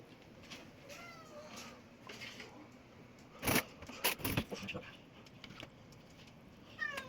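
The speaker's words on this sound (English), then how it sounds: "You got a cat like that going around begging you for food, even when you just fed him." A cat begging for food meows several times close by, short rising cries among background noise, with a few sharp clinks in between.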